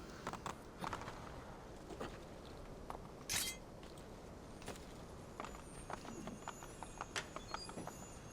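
Horse hooves clip-clop steadily on a hard surface in Assassin's Creed 2, a quiet, even trotting rhythm with occasional brief louder knocks and no talking.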